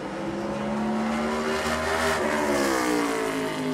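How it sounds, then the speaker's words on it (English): A NASCAR Cup Series race car runs laps during practice at North Wilkesboro. The engine roars steadily and loudly, with a rising pitch as the car accelerates. No voices are heard. "Chad Fincham as well in the 66 car on the racetrack"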